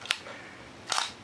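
Minolta SRT film camera shutter firing, two quick crisp mechanical clicks about a second apart, quiet and close with nothing else around.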